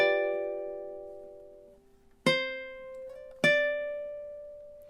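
A ukulele plays a short measure of the carol God Rest Ye Merry Gentlemen: one soft, sustained strum fades out, followed by two crisp plucked chords that ring close and clear with no voice.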